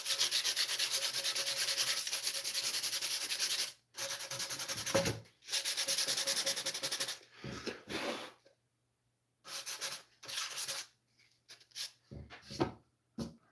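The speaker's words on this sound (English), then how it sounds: "I can just real quick give that a quick scuff." Sandpaper scuffs a Telecaster guitar body in long, steady close-up strokes, then breaks into shorter bursts of rubbing separated by quiet pauses.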